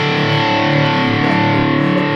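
A heavily distorted Cort doublecut electric guitar rings out in one loud sustained chord, thick and buzzing, filling the whole moment without any voices.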